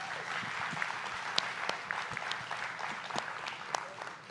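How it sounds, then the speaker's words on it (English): Audience at a startup pitch competition in Bangkok clapping, a fairly soft but steady patter of many hands with a few sharper individual claps standing out, no talking. "give yourselves a round of applause, rather."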